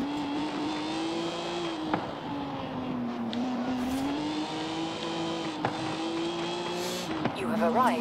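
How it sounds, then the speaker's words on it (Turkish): Car exhaust roaring on a highway in Forza Horizon 5, a sustained engine drone that rises and falls with revving and shifting, loud and close, with a few clicks and a short squeal near the end. "Güzel yırtınıyor ama egzoz."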